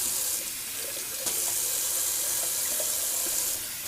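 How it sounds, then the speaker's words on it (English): Tap water runs steadily into a sink as alum is rinsed off a freshly shaved face, a continuous close splashing stream with occasional small drips and no talking. "let me rinse off this alum that I put on my face"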